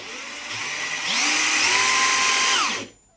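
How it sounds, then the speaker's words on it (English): A Makita 40V half-inch high-torque impact wrench (GWT02) running free: the motor spins up to a loud, steady whine and holds for about two seconds before winding down and cutting off. No voices. "a very, very powerful, yet quite heavy, impact wrench"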